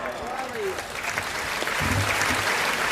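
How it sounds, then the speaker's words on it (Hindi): An audience at a Hindi kavi sammelan poetry recital gives a short, rather weak round of applause, while a voice talks over it. "देखिए तालियां आपकी थोड़ी सी कमजोर है"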